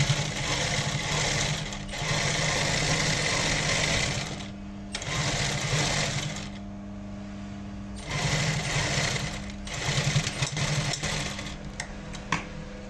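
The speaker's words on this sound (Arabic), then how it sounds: "دركا قاعده نخيط فيه" Sewing machine stitching a kaftan at close range, running in rapid whirring bursts of about two to three seconds separated by short pauses, with small clicks and handling noises between runs.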